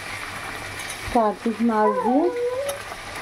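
Okra frying in a pan, a soft sizzle running under a voice that speaks briefly over it.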